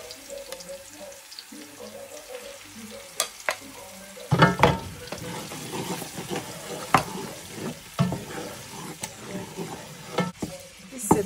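Garlic, ginger and onion paste frying in a pot of egusi soup, with a steady sizzle that flares loudly around midway and continues through repeated stirring and scraping knocks.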